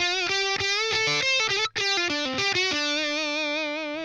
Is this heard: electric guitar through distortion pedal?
yes